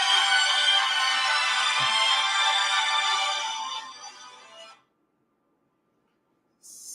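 A mobile phone rings during a phone interview, a dense electronic ringtone playing loudly and steadily for about four seconds before cutting off, followed by silence and a brief burst at the very end.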